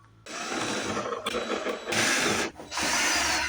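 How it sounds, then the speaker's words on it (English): A ratchet wrench backs out 7mm bolts from the door panel of a 2015 Chevy Silverado, giving close, loud bursts of rapid clicking in three runs separated by short pauses. "We're going to go ahead and take those 7mm out"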